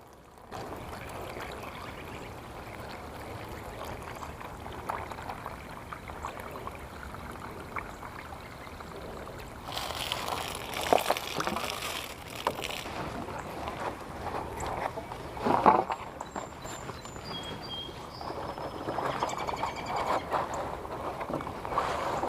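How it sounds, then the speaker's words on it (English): A garden water hose runs steadily, filling plant containers for potted hellebores with a continuous soft splashing and trickling that grows louder and more turbulent partway through. "Now I'm just going to use my water hose to fill up these containers here."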